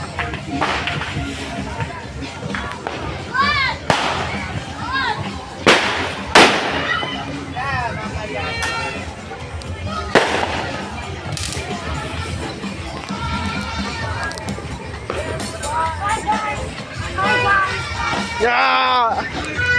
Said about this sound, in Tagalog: Daming paputok.